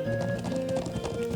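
Horse hooves clopping in the video game Trails of Cold Steel, a quick steady clip-clop rhythm, loud and close over a sustained musical tone.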